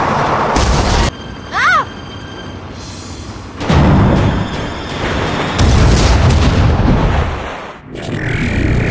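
Loud explosions and bursts of gunfire boom through a chaotic shooter scene in the video game Turok 3, with heavy rumbling blasts recurring over several seconds and brief game voices mixed in.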